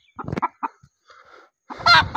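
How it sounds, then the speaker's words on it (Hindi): Chickens cluck in short bursts, with a louder, harsher squawk toward the end; no talking. "और यहाँ पर देखो मुर्गी के लिए मुर्गा भी आ गया।"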